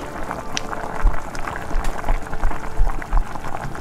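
Mysore bajji batter is mixed by hand in a bowl, giving close, wet, squelching and slapping sounds in an uneven, continuous rhythm.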